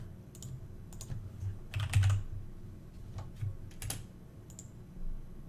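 Fingers type a chart title on a computer keyboard, producing a sparse, uneven run of close, crisp key clicks with short pauses between bursts.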